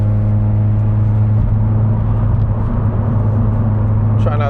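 A car drives with a steady low engine drone and road rumble filling the whole stretch, loud and continuous, with a brief scratchy noise near the end.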